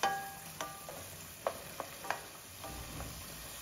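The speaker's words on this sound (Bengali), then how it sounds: "মরিচ বাটাটা দিয়ে নেড়েচেড়ে 2 মিনিটস ভেজে নিচ্ছি।" Chili paste fries in a pan with a soft, low sizzle while it is stirred, and a few light scraping knocks of the spatula sound close by at a quiet level.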